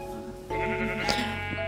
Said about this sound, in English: Yeah, you seize the sheep.